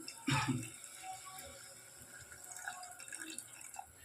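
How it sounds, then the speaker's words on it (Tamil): A short splash of tamarind water poured into a pan of brinjal thokku, followed by faint drips and quiet kitchen clatter. "இப்போ புளி கரைச்சி வச்சுருக்கோம் அதை ஊற்றிடலாம்"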